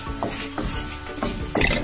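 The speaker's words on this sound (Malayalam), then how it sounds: "ഈ ഫ്രൈ ചെയ്യണ സമയത്ത് നമ്മൾ ശ്രദ്ധിക്കേണ്ടത് ഫ്ലെയിം ലോ ആയിരിക്കണം കേട്ടോ" Beef fry with red masala sizzles in a pan over a low flame, with quick stirring scrapes and soft clinks of a spoon against the pan, heard up close and alone.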